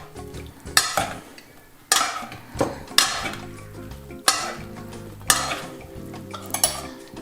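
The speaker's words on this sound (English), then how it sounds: "Mix it all together." Mango salad being tossed in a bowl, with repeated scraping and clinking strokes of utensils against the dish in an uneven rhythm, close and fairly loud with no talking.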